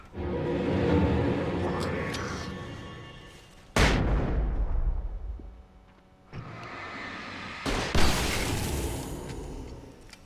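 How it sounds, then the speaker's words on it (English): Flashbang grenades go off in the video game Alan Sleep: two loud, sudden booms a few seconds apart, each fading slowly, over a constant background din of game noise. "There's no way this dude's not hearing me dropping flashbangs out here"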